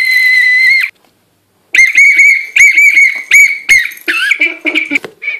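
A loud, shrill whistle sounds in a long blast, then after a pause comes a string of short, sharp whistle blows in quick succession, close by.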